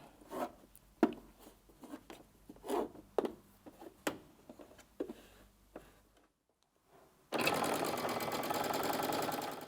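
A sewing machine stitches quilt block seams in a steady, close, fast whir that lasts several seconds, preceded by faint rustling and handling of fabric.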